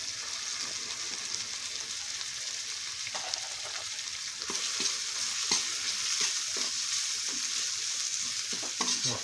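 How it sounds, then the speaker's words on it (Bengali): Turmeric, chilli, cumin and coriander powders fry in a pan of oil for a papaya kofta curry, a soft, steady sizzle with occasional stirring scrapes, close but quiet, growing a little louder midway. "এবার আমরা দিয়ে দেব 1 চামচ হলুদ গুঁড়ো, 1 চামচ লঙ্কা গুঁড়ো, 1 চামচ জিরে গুঁড়ো, আর 1 চামচ ধনে গুঁড়ো।"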